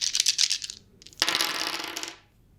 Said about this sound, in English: I now roll my dice.